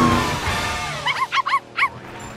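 Cartoon puppies in the animated show Blaze and the Monster Machines give four quick, high yips in a short burst, close and clear, following a stretch of engine and background noise.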